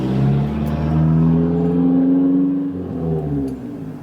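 A truck with a deleted muffler and a small four-cylinder engine revs loudly nearby, its raspy note rising and falling in a sustained drone before easing off.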